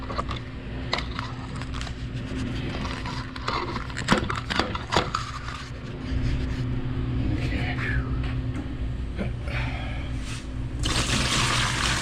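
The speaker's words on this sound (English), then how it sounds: "let's go ahead and dump some hot water in there" Hot water from a home heater pours into a reptile enclosure, a steady close splashing and trickling running through the whole stretch, with a few sharper knocks near the middle.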